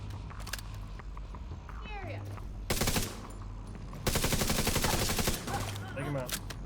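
Bursts of automatic gunfire in The Division 2 shooter game, loud rapid volleys over a steady low background hum, with voices calling out between and over the shots.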